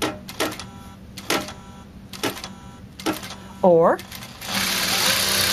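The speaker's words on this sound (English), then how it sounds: "You can sew one stitch at a time by just tapping with your toe," A Juki 5420 industrial sewing machine stitching slowly, one stitch at a time, giving a few separate mechanical clacks in a loose rhythm, then a brief whir and a steady run. The clacks sound close, and someone talks over them.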